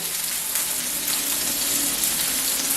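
Paprika and onion sizzle steadily in a hot pan, a continuous bright frying hiss with no break and no voices.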